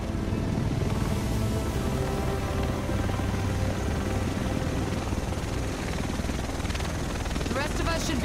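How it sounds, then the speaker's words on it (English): A helicopter arrives in Tom Clancy's The Division, video game: loud, continuous rotor chop and engine roar fill the scene, steady and close throughout, with voices talking underneath. "The rest of us should be in this chopper."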